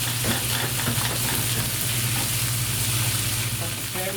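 Chicken stir fry with onions, water chestnuts and celery sizzles loudly in a pan, a steady close hiss and crackle with a low hum underneath.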